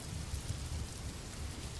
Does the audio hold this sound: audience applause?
no